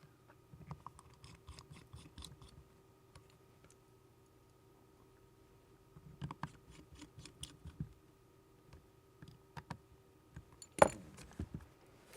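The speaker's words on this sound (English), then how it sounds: "I'm gonna put all the screws back" Four small screws going back into a Sony A1 II camera body during an LCD replacement: faint, sparse ticks and light metallic clicks in bursts, close up and quiet, with no talking.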